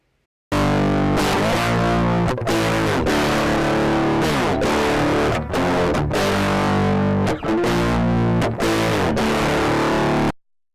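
A guitar runs through a waveshaper distortion effect on an STM32 audio DSP board at 24-bit/48 kHz, playing loud, saturated chords and riffs with several short breaks between phrases, heard alone for about ten seconds.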